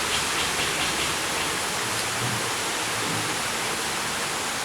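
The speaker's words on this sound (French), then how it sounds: "Ça c'est le pont, il y a la rivière qui passe en dessous." A river rushes beneath a bridge below a resort terrace in Bali, a constant broadband hiss of flowing water, steady and unbroken with no voices.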